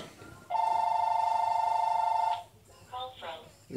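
A telephone rings once in a steady, electronic tone lasting about two seconds, close and clear, followed by a person speaking briefly.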